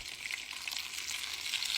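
Chicken fries in a granite-coated pan with a steady, close, bright sizzle and crackle throughout, with no talking.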